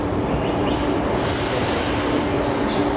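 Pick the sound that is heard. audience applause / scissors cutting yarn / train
train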